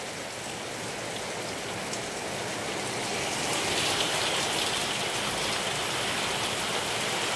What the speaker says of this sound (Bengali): প্রচণ্ড বৃষ্টি হচ্ছে, প্রচণ্ড।